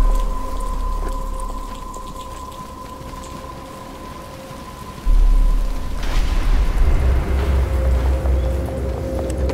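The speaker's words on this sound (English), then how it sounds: "But it's starting to rain." Steady rain pouring in the Batman Return to Arkham Asylum video game, a constant hiss that grows heavier halfway through as a low rumble joins in, with no voices.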